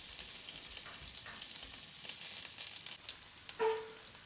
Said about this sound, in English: So fry these off until they're brown